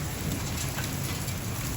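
Heavy rain pours during a thunderstorm with hail, a thick continuous roar of drops on surfaces with a low rumbling undertone, loud and unbroken, no voices.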